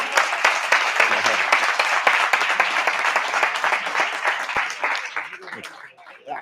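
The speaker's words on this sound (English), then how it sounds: "An extra applause for Manuel." An audience at a talk on Nanochromis fish from the Congo breaks into dense, sustained applause, loud at first and thinning toward the end, with some voices mixed in.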